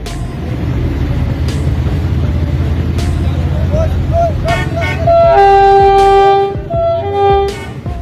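A train at a railway crossing in Pakistan, with a low rumbling roll under steady noise, then a loud, sustained horn blast sounding several times near the end.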